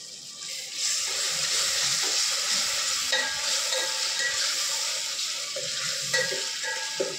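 Ginger-garlic paste being stirred in a cooking pot for a meat dish, a continuous loud close sizzle with scraping spoon strokes throughout, no talking.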